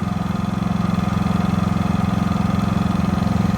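A Predator 5000-watt dual-fuel generator from Harbor Freight runs steadily on non-ethanol fuel, a low, even engine hum with a fine pulsing rhythm, close by and fairly quiet, alone without talk.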